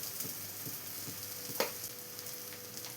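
Spice powders sizzle steadily while being sautéed in a pan for a cauliflower curry, with a few faint stirring scrapes and one sharper clink near the middle.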